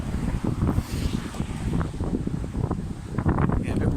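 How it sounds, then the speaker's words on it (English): Gusty outdoor wind buffets the microphone in uneven rumbling bursts, with faint talk beneath. "a bit windy still"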